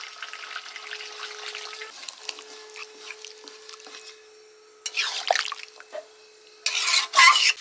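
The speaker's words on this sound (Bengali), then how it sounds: "অল্প করে জল দিয়ে দিচ্ছি" Water goes into a pan of Kashmiri chicken with wet splashing and a burst of sizzling, then louder bubbling surges later, over a faint steady hum.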